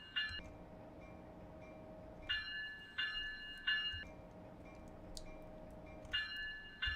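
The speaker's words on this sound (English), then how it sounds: "the interior bell is the same as the old one" Interior cab bell of a train in Train Simulator 2022, a repeated high two-tone chime sounding in short bursts, several rings spaced a second or two apart over a steady low cab hum.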